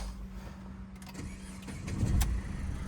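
A car engine idling with a low, steady hum, punctuated by a few soft clicks and a brief rise in rumble.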